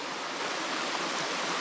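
Steady rushing water of a creek cascade at Purragulli Creek, a dense continuous roar with no pauses, close and fairly loud.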